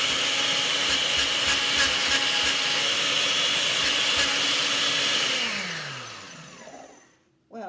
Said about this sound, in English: I just push the high button on this 1970s Osterizer blender